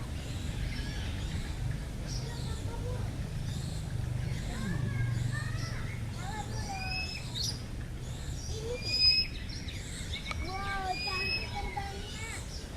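Birds chirp and call inside the walk-through bird dome at the Taman Safari baby zoo, with short whistles and tweets scattered over a steady murmur of visitors talking nearby.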